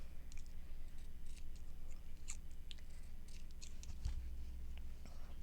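Scissors cut an irregular shape out of fabric with quiet, scattered snips, faint and close over a low steady hum.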